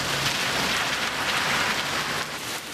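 Steady, dense rain pours onto a street in Guayaquil, a loud continuous hiss of drops with no breaks and no voices.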